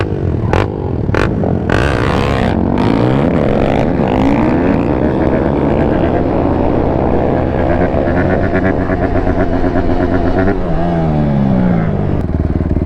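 Two-stroke dirt bikes and a 400 quad rev hard while racing, engines screaming loud and close with rising and falling pitch, a voice briefly heard under the roar.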